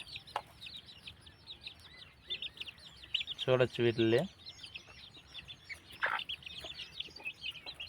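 Native country chicks peep in rapid, high chirps alongside a hen's clucking, with a short burst of louder clucks midway and a voice speaking briefly.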